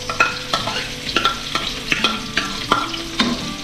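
Ginger, onion and garlic sautéing in a hot pan, with a bright continuous sizzle broken by regular spatula scrapes and clinks, close and fairly loud, with no voices.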